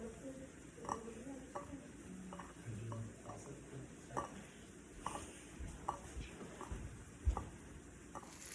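Fish and broccoli cook in soy sauce in a pan with a faint, steady sizzle, broken by soft utensil taps and clicks against the pan at an uneven pace.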